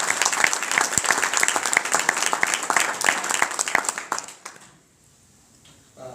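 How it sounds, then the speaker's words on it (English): An audience applauds a Rice Athletics honoree at a celebration of trailblazers, dense clapping holding steady for about four seconds before fading out to near silence. "let's give her a round of applause for her."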